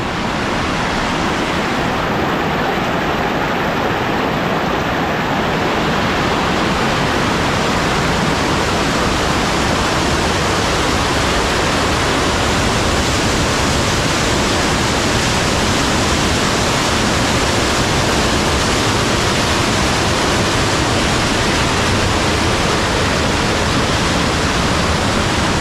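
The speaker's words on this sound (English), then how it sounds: "and then down onto the waterfall" A steady, roaring rush of falling water at Corrieshalloch Gorge in Scotland, loud and constant with no pauses, like standing close to a waterfall after a dry summer.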